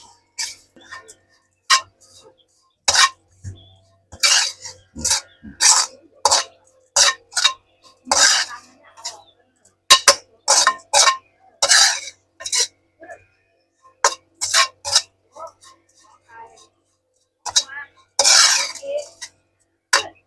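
Ingredients for Thai catfish larb being stirred and tossed in a bowl: a run of sharp, irregular clacks and scrapes from close by, some of them quick bursts, others spaced apart, with no talking.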